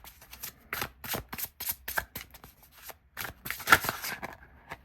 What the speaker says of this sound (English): So let's look at the shuffling.